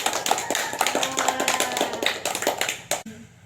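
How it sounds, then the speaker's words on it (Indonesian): A small class claps for a student during an Indonesian science-teaching simulation: a brisk run of sharp, close handclaps for about three seconds that ends abruptly, then a quiet hum. "Tepuk tangannya dulu untuk Adri."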